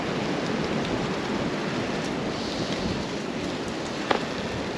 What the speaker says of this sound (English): the rain's coming, getting ready to come down. It feels like sprinkle here, sprinkle there